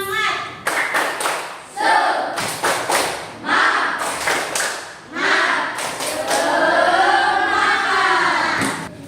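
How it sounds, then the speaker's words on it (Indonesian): A school class performs a rhythmic spirit clap, a sequence of sharp group claps in short bursts and patterns, with children's voices chanting and talking between and over the clapping. "Tepuk semangat"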